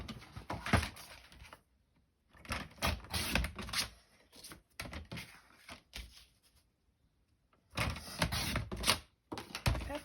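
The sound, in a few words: cutting paper card for a flip card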